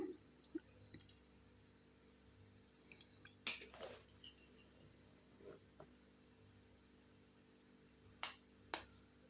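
Eggs are cracked into a pan in a quiet kitchen, giving a few sharp cracking snaps and soft wet drips against a low background hum. Two crisp cracks land close together near the end.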